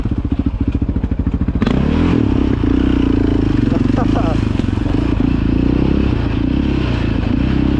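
A four-wheeler engine idles with a rapid pulsing putter, then revs up into a steady, loud drone as it is ridden, with clattering bumps and a voice talking over it.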